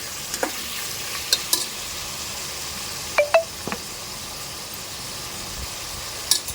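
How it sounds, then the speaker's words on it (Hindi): Chicken liver (kaleji) roasts over a gas flame in a pan, a steady close sizzle and frying hiss with occasional scrapes and clinks of a stirring spoon. "इसकी भुनाई करेंगे।"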